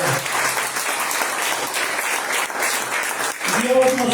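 A church congregation breaks into loud, dense clapping that carries on steadily, then thins near the end as a voice begins to speak.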